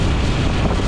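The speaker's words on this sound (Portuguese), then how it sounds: "Mano, o vento tá batendo." Steady, loud wind buffeting a microphone while riding a motorbike, a continuous low roaring rush with no voices.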